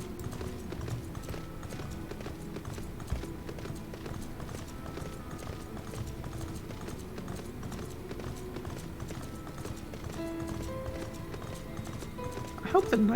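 Mechanical horse mount trotting in Final Fantasy XIV, steady rapid hoof clip-clop running throughout under game music, moderately loud.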